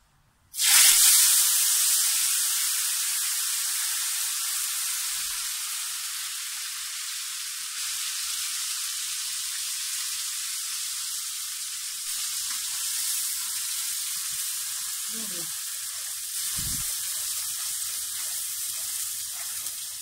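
A loud sizzle bursts out as garlic, onion and green chili paste hits hot oil, then settles into a steady frying hiss, with a couple of faint clinks near the end.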